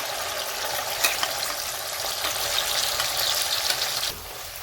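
Tomato and onion paste frying in oil for paneer masala gives a steady, close sizzle and crackle throughout, with a few sharper spatters, then the frying settles a little quieter near the end.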